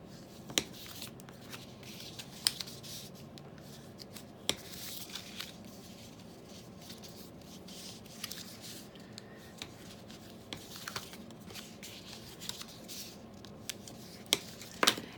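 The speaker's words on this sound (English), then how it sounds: "Then I'm going to fold along the score lines." A scored paper card is folded along its score lines for a tissue box cover, producing quiet rustling and scattered crisp creases and taps, close and faint.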